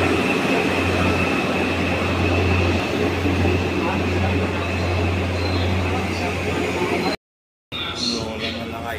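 A crowded commuter train bound for Alabang rumbles steadily with a loud, continuous hum, and people talk over the noise before a brief cut.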